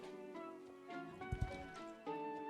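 A Morgan horse in Star Stable Online performs an extended jump, with a couple of sharp hoof thuds on landing standing out over steady background music.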